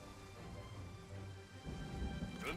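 Steady rain in the strategy game Total War: Three Kingdoms, a soft continuous hiss with a low rumble, swelling slightly toward the end, with no voices over it.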